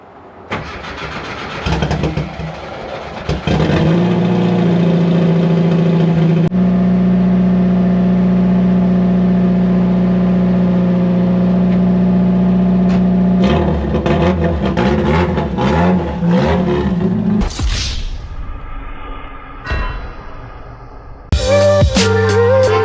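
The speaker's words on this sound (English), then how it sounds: "Oh, cold start." Mazda Miata engine cold-starting: a brief cranking whir, then the engine catches and settles into a loud, steady high idle close by, later blipped with a few uneven revs before dropping off.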